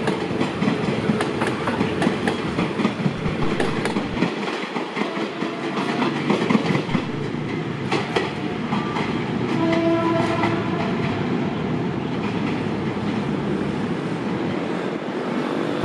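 Train 211 on the Thai railway running from Bangkok to Taphan Hin pulls into a station, with a loud, steady rumble of rolling cars, rhythmic clicking over the rail joints and a horn blast midway, all close and continuous.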